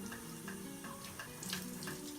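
Water is squeezed in soft pulsing squishes into a child's soaked hair, with faint wet trickling and dripping close by and no talking.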